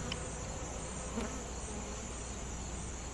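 Honey bees drone steadily in an open hive, with pollen backfilled in the comb, a continuous dense buzz filling the whole moment close to the ear.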